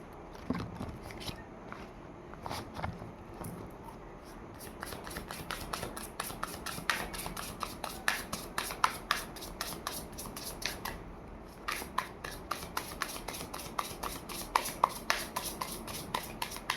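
Tarot cards handled and shuffled in a deck, a long run of quick, papery riffling flicks and taps with a brief pause in the middle, close and fairly quiet, with no talking.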